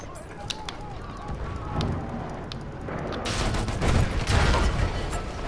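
Fortress gun firing in the Battlefield 1 video game, a loud booming blast that swells into a sustained rumbling roar amid scattered gunfire, with voices talking over the battle.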